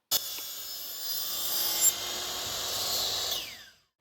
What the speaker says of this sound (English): We are using a miter saw to cut our planks